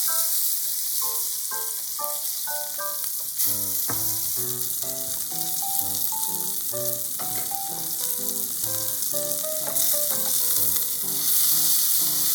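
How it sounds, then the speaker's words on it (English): A teriyaki hamburger patty sizzles in a frying pan with a steady, bright hiss that runs continuously beneath a light melodic music track. "Once the patty is cooked on one side, flip it over and cook more."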